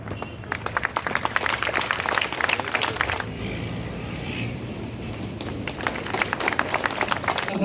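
An audience applauds at the inauguration of a memorial gate in Samba honouring a martyred army colonel, with dense, sustained clapping that briefly softens midway and then swells again.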